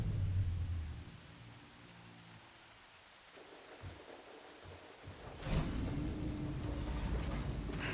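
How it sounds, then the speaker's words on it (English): Steady rain hisses for several seconds in the video game Horizon Forbidden West, then a low rumble of thunder rolls in and the downpour swells louder toward the end. "Oh, of course it's raining now."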